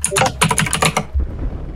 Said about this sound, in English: Stop slamming your keyboard.